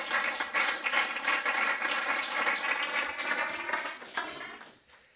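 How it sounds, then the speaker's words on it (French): Applause from the audience at a municipal council meeting, a dense crowd of claps that holds steady for several seconds before thinning and fading away at the end. "On peut l'applaudir"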